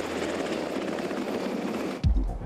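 Black Hawk military helicopter rotor and engine roar, loud, close and steady for two seconds before a sharp cut to a deep low rumble, with no voices.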